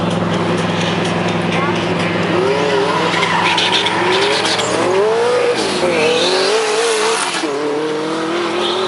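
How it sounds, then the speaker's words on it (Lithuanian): A BMW 535 turbo makes a drag race run at a Lithuanian drag championship round, loud engine roar with rising and falling revs and tire noise, close and continuous, while an announcer talks over it. "šitą važiavimą nugalėjo BMW vairuojantis 413 numeris Donatas Zalobaitis"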